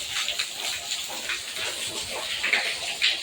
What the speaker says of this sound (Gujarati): વરસાદ વરસાદ વરસાદ. ઓહો હો કેટલું બધું પાણી ભરાય.